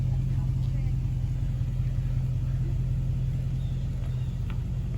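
Rumbling exhaust of a Ram 1500 pickup fitted with a Series 44 muffler, a steady low idle drone held close and constant throughout, with no spoken words.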